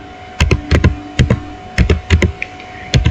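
Keys clatter on a computer keyboard in short clustered bursts of quick taps with brief pauses between them, close and fairly crisp, while a network ping command is typed.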